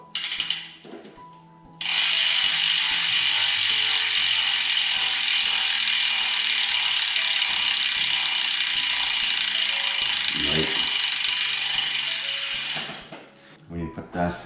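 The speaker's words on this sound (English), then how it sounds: "I have a hope wheel set there, and God, it's noisy." A Hope bicycle wheel hub ratcheting loudly as the freewheel spins, a dense, buzzing clicking of pawls held for about eleven seconds, with someone talking briefly before and after.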